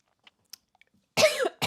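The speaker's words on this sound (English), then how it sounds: "I'm starting to cough and I'm running out of water" A person coughs, with a few faint clicks and mouth sounds first, then two close, harsh coughs near the end.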